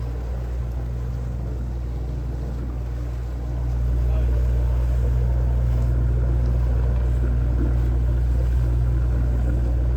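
Steady low engine drone from a sailboat motoring at 1900 RPM, with wind and water noise over it; the rumble grows a little louder after a few seconds and then holds constant.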